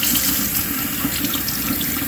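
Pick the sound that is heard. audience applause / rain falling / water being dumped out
water being dumped out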